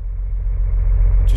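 A car from the night-driving game Driving Home rolls along slowly, its engine a steady low rumble that swells slightly near the end, with no talking.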